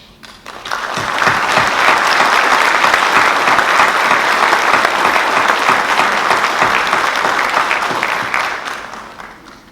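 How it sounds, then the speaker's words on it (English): Loud sustained applause from a large audience at a police academy graduation swells quickly, holds steady for several seconds, then tapers off. "join me in a round of applause for all of our families and the incredible support that they provide us"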